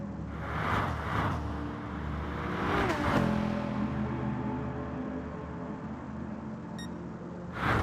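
Racing car engine in a GT racing video game, droning steadily at part throttle with rising and falling revs, close and continuous, with a short electronic beep near the end.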